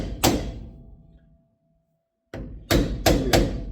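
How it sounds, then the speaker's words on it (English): A hammer tapping the cap on a brake drum of a 1958 GMC pickup during a disc brake conversion: one solid hit, a pause, then a quick run of four close, loud metallic knocks. "Give it a couple taps with the old hammer here."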